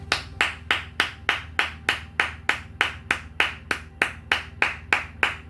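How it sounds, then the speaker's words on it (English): One person claps hands in a steady, even rhythm, about three claps per second, loud and close, with no voices over it. "I'm applauding this reading because it was beautiful"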